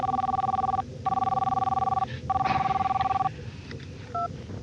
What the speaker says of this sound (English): I've got a very important phone call to make